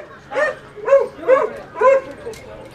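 A dog barks four times in an even rhythm on Halloween, close and moderately loud, each bark short and sharp with quiet gaps between.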